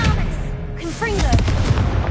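A Confringo spell in a Harry Potter game goes off with loud, booming blasts and crackling impacts, layered with whooshing magical effects and ongoing battle noise.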